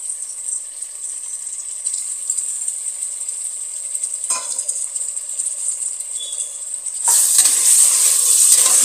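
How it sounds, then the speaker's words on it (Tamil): Onions with mint and coriander sautéing in a pan for mutton dum biryani, a loud steady sizzle with light stirring scrapes that swells sharply near the end. "நல்லா வதக்கிக்கோங்க."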